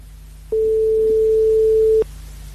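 A telephone line clicks open as a call is picked up on a live radio show, followed by a steady mid-pitched tone of about one and a half seconds, over a low constant hum.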